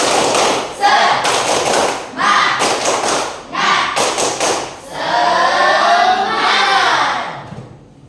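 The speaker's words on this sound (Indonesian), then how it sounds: "Tepuk semangat." A group performs tepuk semangat, a rhythmic spirit clap, during a class session, with loud bursts of clapping in a set pattern broken by short pauses, voices chanting along and a final stretch of shouting.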